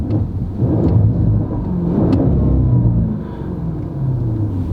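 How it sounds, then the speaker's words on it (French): Lamborghini Urus engine revving up, heard from inside the cabin, a loud low rumbling roar that swells and holds, dips briefly, then rises again. "Mets-nous donc un petit coup de gaz là pour clôturer"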